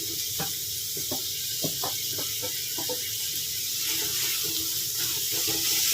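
Three medium onions, finely chopped, sizzle in hot oil for a paneer masala, a steady bright hiss running throughout with scattered soft crackles and stirring clicks, close and even in loudness.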